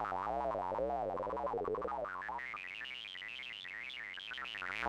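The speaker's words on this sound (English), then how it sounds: "So now we're randomizing the various tones." ZIM Synth, a JavaScript browser synthesizer, playing randomized electronic tones: wobbling, sliding pitches and bouncy sweeps that keep rising and falling, steady and fairly quiet, without speech.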